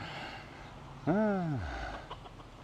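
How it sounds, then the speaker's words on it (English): A single drawn-out rooster call rises and falls, fairly close, over light outdoor background noise at a scenic stop on Kauai, Hawaii. "A rooster."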